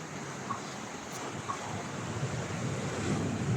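Waves wash steadily onto Duli Beach in El Nido, Palawan, a soft continuous roar mixed with wind noise, no one speaking.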